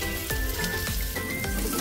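Ginger and garlic sizzle in hot oil with polao rice being fried and stirred in a pan, a dense steady crackle broken by a few scraping stirs, close and fairly loud.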